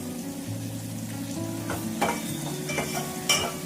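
Tomatoes soften in a pan for a tangy tamarind dal rasam, making a steady, moderate sizzle with a few soft stirring clinks and no voices.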